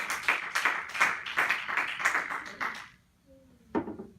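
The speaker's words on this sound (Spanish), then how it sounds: "Aplauda a Jesucristo en esta hora." A church congregation clapping in a rhythmic, even beat of about a dozen claps at moderate distance, stopping abruptly; a short voice and a sharp sound follow after a brief quiet.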